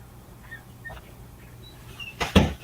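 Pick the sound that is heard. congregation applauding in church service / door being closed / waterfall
door being closed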